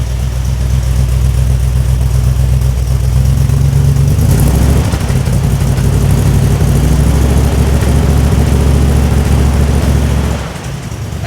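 A 1965 Buick Riviera engine runs in drive with a steady, loud, low droning hum close by, the pitch shifting slightly partway through before dropping off near the end, with no talking.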